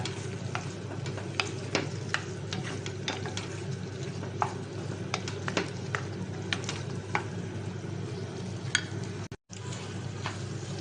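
Chicken Manchurian sizzling in a pan, a steady close frying hiss broken by frequent ticks and scrapes of stirring, with a brief dropout near the end.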